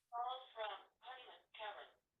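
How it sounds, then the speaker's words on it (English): A phone rings with an incoming call during a talk, giving three close, melodic ringtone bursts in a steady pattern. "somebody's getting a phone call"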